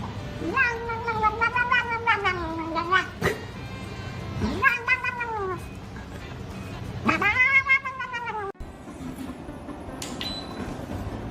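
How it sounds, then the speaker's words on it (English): A farm cat meows loudly and repeatedly in long drawn-out wails, three main calls with pauses between them, close to the listener. "This cat has reached a level of relaxation the rest of us can only dream of."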